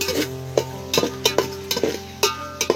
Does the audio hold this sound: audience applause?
no